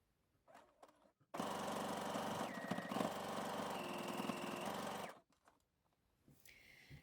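Sewing machine zigzag stitching a wide neckband on a V-neck dress, one close, steady run of rapid mechanical whirring lasting about four seconds, with faint handling noises before and after.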